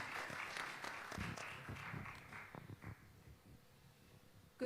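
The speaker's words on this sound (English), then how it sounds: "Please join us in a round of applause." Audience applause at a healthcare congress panel, a steady spread of clapping from a seated crowd that holds for a few seconds and then thins out, with a brief louder sound at the very end.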